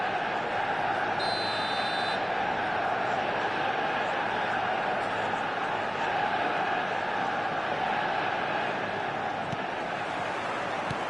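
Stadium crowd roaring steadily through a Roma v Barcelona match in the eFootball video game, a dense continuous wash of cheering with no pauses, loud and broad, with a short electronic tone briefly audible early on.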